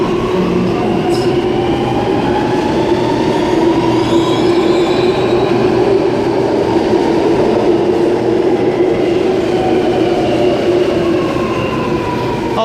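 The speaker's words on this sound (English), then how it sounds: "Alstom Metropolis set number 2 now departing platform number 3 for a Tallawong service" Alstom Metropolis metro train pulling away from a station platform at night, a loud continuous rumble with rising motor whine and faint wheel squeal throughout.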